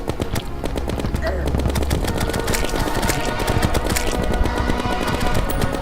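Rapid gunfire from a weapon in the video game Terraria rattles continuously and fairly loud, layered over dense game sound effects with a voice speaking throughout.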